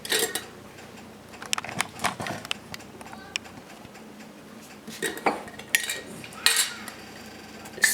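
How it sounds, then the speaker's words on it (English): A spoon stirs a sourdough starter with flour in a jar, giving close, irregular metallic clinks and scrapes against the container, with brief louder knocks. "stir our sourdough starter and take a half cup"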